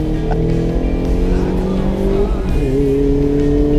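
A Mazda MX-5 ND 1.5 convertible with rear-wheel drive and 130 hp is being driven. A steady, close engine drone with humming harmonics holds throughout, and its pitch shifts briefly partway through.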